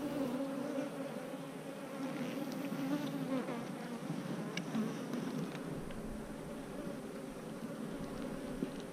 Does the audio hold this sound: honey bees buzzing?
yes